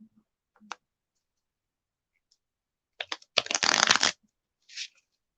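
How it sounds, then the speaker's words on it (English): Tarot cards being shuffled during a reading, a few soft clicks and then a dense, fast riffle lasting under a second, close and fairly quiet with no talk. "Last shuffle, Shirley."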